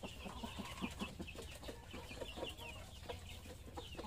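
Chickens clucking at a farm while being fed harvested rice grain and watermelon, several birds making repeated short clucks at moderate distance over a steady background murmur.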